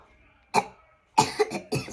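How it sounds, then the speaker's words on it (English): A forceful cough into a sample cup, heard as a sharp burst followed after a pause by a louder cluster of three close coughs, near and clear with no talking. "On that last one, you're going to cough into the cup."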